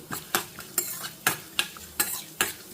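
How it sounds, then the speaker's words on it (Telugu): Tempering seeds frying in hot oil in a pan, with a steady sizzle broken by sharp, regular stirring scrapes about every half second, close and fairly quiet, with no voices. "ఈ పోపు గింజలు అన్నీ వేసేసుకున్నాను సో ఇది కొంచెం వేగాలి"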